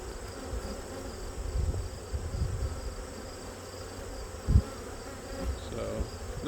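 Many honeybees drone in a close, continuous buzz at an open hive, with the occasional louder individual passing by and a few soft knocks.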